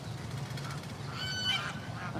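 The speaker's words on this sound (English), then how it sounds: "okay, the geese are going wild." A flock of geese honks noisily in Cambodia, a burst of overlapping calls heard at moderate distance over a low background rumble.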